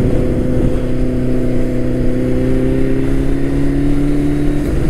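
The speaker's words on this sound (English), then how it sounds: "This bike is very loud." A Suzuki Hayabusa turbo motorcycle engine runs loud and steady close by, its strong low harmonics holding a sustained drone that climbs slightly in pitch as revs rise over a few seconds.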